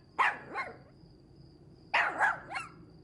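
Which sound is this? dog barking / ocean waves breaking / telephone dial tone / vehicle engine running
dog barking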